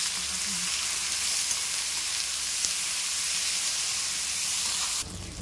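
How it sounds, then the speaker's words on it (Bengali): Onions frying until browned for chicken kosha give a steady, loud sizzle and hiss that holds evenly throughout, close by, then drops slightly in level near the end. "এখন পেঁয়াজটাকে লাল করে ভাজতে হবে"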